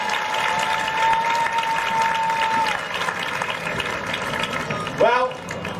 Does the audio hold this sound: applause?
yes